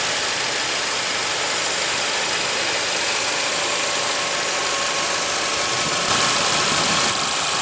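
A 2016 Volkswagen Golf GTI with a 2.0-liter turbocharged inline four-cylinder engine idles close by, a steady, even hum with a faint mechanical rattle and no talking.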